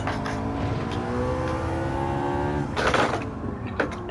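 A McLaren 650S engine in Gran Turismo 7, revving steadily in second gear with rising harmonic whine, then a brief burst of noise near the end and another short blip, loud and close.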